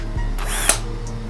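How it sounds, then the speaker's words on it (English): A power drill bores holes in garden buckets for planting, giving a short, whirring burst up close with no talking. "right now we're drilling holes in the buckets so we can start planting things"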